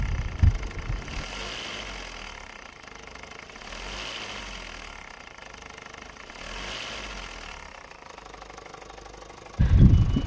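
A Toyota Hi-Ace with a 1KD diesel engine runs roughly at idle, a steady mid-pitched drone with faint knocking from a loose tensioner bearing striking metal on metal, ending in a louder burst as the engine is revved.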